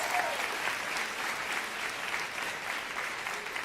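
A crowd gives a round of applause for Madi Prewett at a live gathering, an even wash of clapping that holds steady and sounds somewhat distant and soft.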